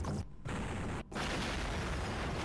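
Explosions in the Sega CD game Surgical Strike: a dense, sustained booming roar, broken by two brief dips, rumbling loudly with no talk over it.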